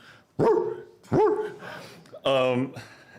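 A man imitates a dog barking with his voice, producing three loud, close woofs. The first two are deep barks and the last is a higher, yelping one, with short pauses between them.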